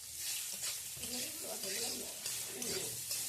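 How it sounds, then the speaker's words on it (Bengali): Ginger frying in hot oil while being stirred in a pan, a steady broadband sizzle with soft scraping stir strokes running throughout, fairly quiet and continuous. "দেখো মা আদাটা কুড়িয়ে রেখেছিল, এবার তেলের মধ্যে দিয়ে দিল।"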